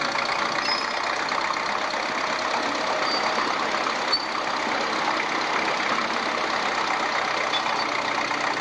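Truck engine running steadily in a continuous, loud mid-range drone with no pauses, heard up close in a rural Alaska setting.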